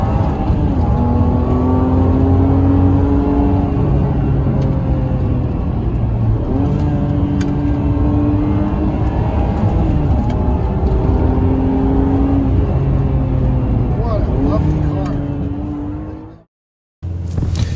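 A Ferrari 612 Scaglietti engine drones steadily inside the car while driving easy through corners, its pitch sliding up and down with light throttle changes before cutting briefly to silence near the end, with no speech.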